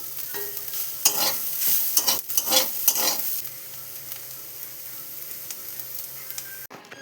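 Potato pieces fry in a pan while a spatula stirs them in quick scraping bursts for about three seconds, then a steady, quieter sizzle carries on alone until a sharp knock at the end.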